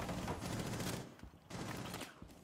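Rapid bursts of gunfire in a competitive shooter video game, including a wall-bang shot, crackling loudly in two dense volleys separated by a short lull, with no voices over them.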